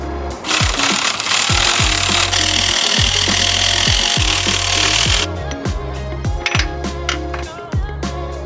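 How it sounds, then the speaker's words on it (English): Electric ratchet working a mount bolt on an Audi S4 during motor and transmission mount installation, a loud sustained whirring drive for about five seconds, then shorter bursts with clicks and clanks of tools. "You'd probably use the ratchet, the electric ratchet for this."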